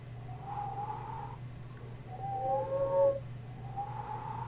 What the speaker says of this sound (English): That's as low as I can whistle, and I had to strain my mouth to do that.